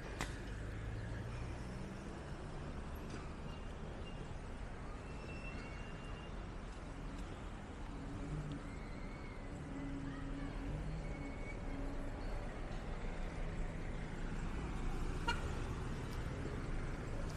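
Busy street traffic in Arusha, Tanzania, with cars and other vehicles passing steadily close by and occasional horn toots over a constant roadway rumble.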